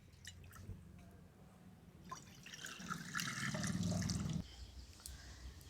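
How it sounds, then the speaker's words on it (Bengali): Water poured from above into a karahi set over a lit stove, a steady splashing pour building and then stopping abruptly, with drips and kitchen clatter around it. "কড়াতে দিয়ে দিচ্ছি জল।"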